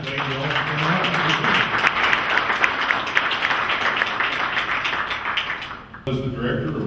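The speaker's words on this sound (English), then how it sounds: "I think we'll give our panel a round of applause here" An audience applauds a panel at an innovation talk event, steady dense clapping filling the room for about six seconds before a brief break, with voices mixed in under it.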